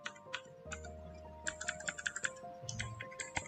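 Python code being typed on a computer keyboard: bursts of quick, close key clicks with short pauses between, over a faint low hum and no voices.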